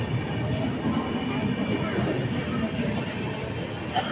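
A train rolls slowly past Punkunnam station, a steady low rumble of wheels and carriages with faint squeals and clatter, continuous and fairly close throughout.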